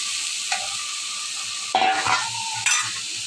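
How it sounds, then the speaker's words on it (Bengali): Whole spices and cumin sizzling in a pan with a splash of water as they are stirred, a steady close hiss broken by scraping stir strokes and a louder burst of sizzle midway. "এখন ভালো করে মশলাটা কষিয়ে নিব"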